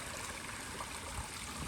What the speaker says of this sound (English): This creek is awesome.